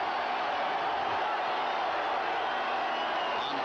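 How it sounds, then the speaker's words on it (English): Football stadium crowd at a 1995 Seahawks–Bills game, a broad, steady roar held loud and constant throughout, no single voices standing out. "First down with the crowd rising up in volume to try to affect Meyer's signal calling"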